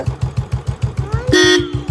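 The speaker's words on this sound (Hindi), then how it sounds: "हॉर्न बजा रहा है।" A motorbike engine chugs in a steady rhythm, then one brief horn honk blares loudly near the end.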